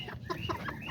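Blue roosters and hens at a cousin's home flock cluck in a dense, overlapping chatter, several birds close by with short repeated calls over steady farmyard background.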